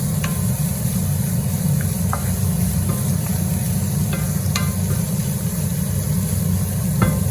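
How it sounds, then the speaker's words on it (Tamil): Carrots are stirred into frying vegetable rice in a pan, with a steady loud sizzle throughout and a few scraping clinks of the utensil, no voices. "இதோட கேரட்டை வந்து ஒரு நிமிஷம் இப்படி இதோட சேர்த்து கிளறுவோம்"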